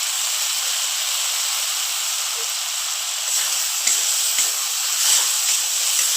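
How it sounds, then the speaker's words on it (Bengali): Ginger-garlic paste and onion paste sizzling in hot oil for a soya chunk curry, a steady hiss that stays even throughout with a few soft crackles and spits near the end, close by and with no talking. "আদা রসুন বাটা আর দিয়ে দেবো পেঁয়াজ বাটা"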